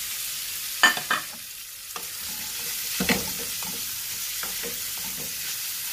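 Minced pork stir-fried in a hot pan, a continuous close sizzle broken by a few sharp scraping strokes of the spatula as it is stirred and browned.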